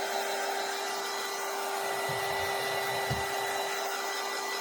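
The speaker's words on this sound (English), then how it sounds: "I'm just using my heat tool to dry it so that it goes a little bit faster" A handheld craft heat tool runs steadily at close range, a loud continuous blowing whoosh with a fixed whine, drying a freshly coated craft project, with a couple of soft bumps partway through.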